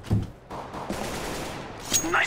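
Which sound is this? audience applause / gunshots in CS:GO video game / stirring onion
gunshots in CS:GO video game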